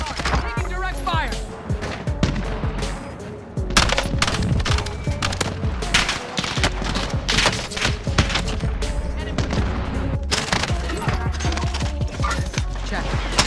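Rapid video-game gunfire crackles in dense automatic bursts and single shots, loud and close, running almost without pause while players call out over it.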